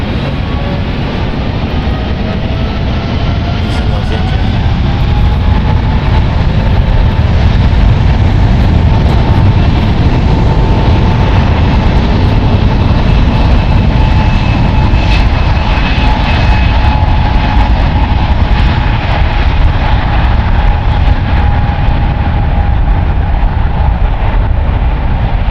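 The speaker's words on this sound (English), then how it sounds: "That was United Airlines Flight 793 going to Chicago at Boeing 777-200, 27 years old." A 27-year-old United Airlines Boeing 777-200 jet departing on the runway, a loud continuous engine roar with rising and falling whining tones that holds steady for the whole stretch.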